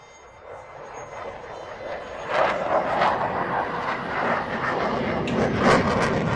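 An airplane engine drones overhead, rising from faint to louder as it passes, with a steady buzzing roll and a few brief gusty surges of noise.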